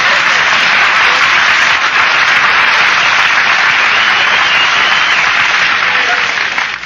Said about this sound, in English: Nobody was supposed to applaud there.